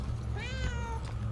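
A cat meows once in the video game Murdered: Soul Suspect, a clear rising-and-falling call over a low, steady ambient hum.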